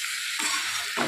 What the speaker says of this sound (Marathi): आता चांगलं परतून घ्यायचं.